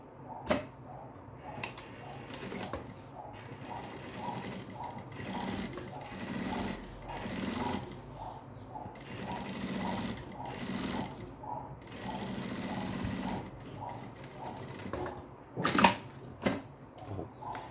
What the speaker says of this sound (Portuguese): Agora eu vou rebater, vou virar aqui para trás, ó. E vou rebater essa minha costura com o próprio calcadorzinho aqui